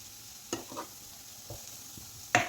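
Grated coconut and onion are sautéed in a pan, with a low, steady sizzle broken by a few scattered spoon scrapes and one sharper clack near the end. No voices are present.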